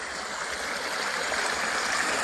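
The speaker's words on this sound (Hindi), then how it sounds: "खूबसूरत आवाज़ इस पानी की" A stream on a morning in the rolling Pothohar country, flowing in a steady, full rush of water close by, with no voices.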